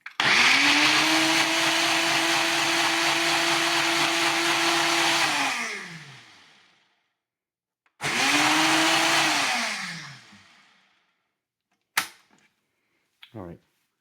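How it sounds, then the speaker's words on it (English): A blender whirs loudly for about six seconds blending banana and apple, winds down, then a shorter second pulse follows and fades, ending with a couple of clunks. "we're going to put in our blender"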